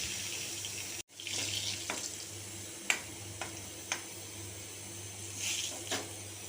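Crushed garlic and masala powder frying in hot oil, a continuous hiss that cuts out briefly after a sharp drop, then resumes with a few light clinks and crackles.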